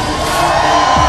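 An arena crowd at a rally roars and cheers in a dense, continuous wash of voices, loud and close with no break.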